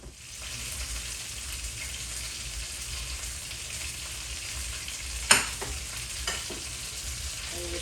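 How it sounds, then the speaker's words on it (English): Boiled potato frying in a pan over low heat, a steady, soft sizzle throughout with one brief utensil clink partway through, no voices. "cook the boiled potato. Put in the pan."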